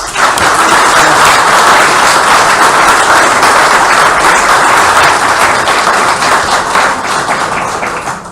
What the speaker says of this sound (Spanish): yo quiero repetir el aplauso